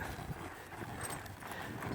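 Faint clip-clop of a young horse's hooves on the ground during groundwork training, soft and irregular with a low rumble behind.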